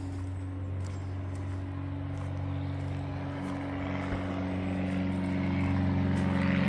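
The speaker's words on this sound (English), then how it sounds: "Oh, it's an airplane." A Cessna 170 propeller plane with a reciprocating engine drones steadily overhead in a forest, its low hum rising slightly toward the end under a bed of outdoor ambience.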